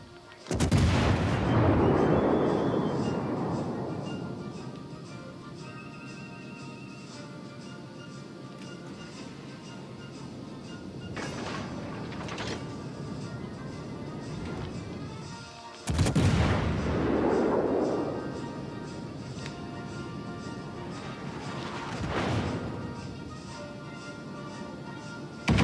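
Warship naval guns fire at a target in World of Warships: Legends, two heavy booming salvos with long rumbling decay, plus a few sharper distant shots between, against a low continuous background.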